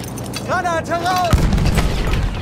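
A grenade blasts in Battlefield 1's Ballroom Blitz conquest mode, a single sharp detonation followed by a lingering low rumble amid battle noise, just after a voice calls out.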